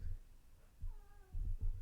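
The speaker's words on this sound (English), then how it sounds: "my niece's cat is crying so loudly outside my door" A cat cries loudly from outside a door, with a few faint drawn-out meows riding over low, muffled thumping rumbles indoors.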